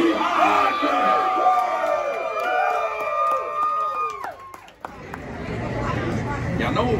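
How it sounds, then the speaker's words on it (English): A crowd at an outdoor crawfish boil at Champy's Chicken whoops and hollers, with loud overlapping whoops and shouts that fade into busy chatter, close by and energetic. "Let's go get this crowd hyped."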